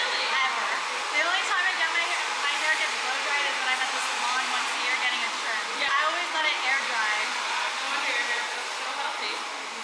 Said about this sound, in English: So I'll blow dry you and then we'll finish the cut.